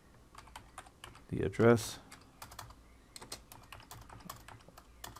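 Soft key clicks from typing on a computer keyboard run through the clip at a steady, irregular pace, with someone speaking briefly over them near the start.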